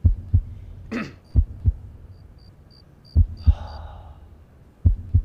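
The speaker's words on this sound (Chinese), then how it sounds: "心跳的声音。" A slow heartbeat thuds in paired low thumps every couple of seconds, with a brief breathy sound and faint high tones between beats.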